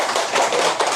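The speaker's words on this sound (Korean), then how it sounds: "박수 한번 쳐주시고" An audience of attendees applauding a guest professor being introduced at a gathering, a brief burst of many hands clapping at close to medium range, fairly loud and even, with no talking over it.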